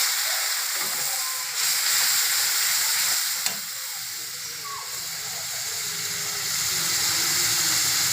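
Water poured into a hot pan with chili powder and coriander powder brings up a loud, continuous sizzle and hiss, with a few light scrapes of stirring and no speech.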